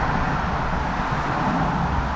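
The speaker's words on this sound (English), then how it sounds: "Sorry about the traffic noise behind me." Steady roar of road traffic passing near a church in daylight, a continuous broadband wash of engines and tyres with no clear individual vehicles standing out.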